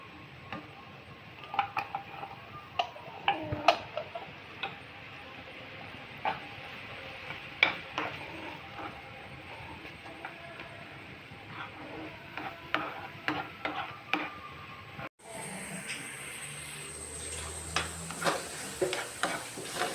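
Jackfruit pieces being stirred and roasted in ghee in a pan, with a steady sizzle under repeated scraping and clicking strokes of a spoon, continuing throughout at moderate level.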